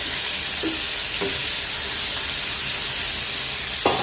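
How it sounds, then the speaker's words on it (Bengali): Salted prawns fry in a hot pan with a loud, steady sizzle and hiss throughout, broken by a few brief stirring scrapes, close and continuous. "লবণ দিয়ে মাখা রাখছিলাম এখন একটু ভেজে নেব"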